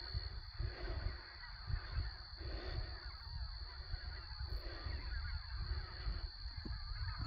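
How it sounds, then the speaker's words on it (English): Many geese in Saskatchewan honk continuously together, a dense chorus of overlapping calls from a sizable flock with a steady background hum. "But it is just loaded full of geese."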